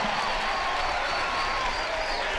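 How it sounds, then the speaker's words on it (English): Crowd roaring at a Hope College versus Albion College NCAA Division III men's basketball game after a steal and foul, a dense, steady wash of cheering and clapping filling the arena throughout. "Listen to this crowd."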